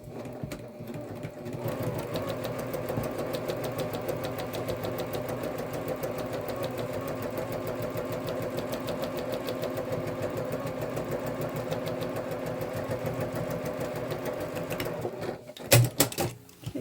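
Close, continuous whirring of a sewing machine running steadily for about fifteen seconds while stitching a pocket on a messenger bag, ending with a few handling knocks.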